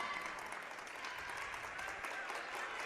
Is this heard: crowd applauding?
yes